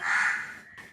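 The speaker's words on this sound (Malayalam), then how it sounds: "കാക്ക എങ്ങനെയാണ് ശബ്ദം ഉണ്ടാക്കുന്നത്?" A crow gives one loud, harsh caw close by, rough and raspy, fading quickly into quiet.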